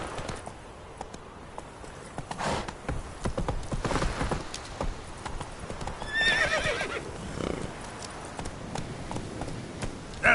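Roach, a horse in The Witcher 3, gallops with rapid clip-clopping hooves and lets out a neigh partway through, the hoofbeats steady and close throughout.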